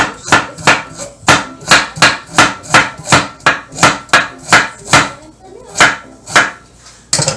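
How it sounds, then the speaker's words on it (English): A knife chops carrots steadily on a cutting board, about twenty sharp, evenly spaced knocks in a quick rhythm, close and loud. "I'm just chopping up my carrots."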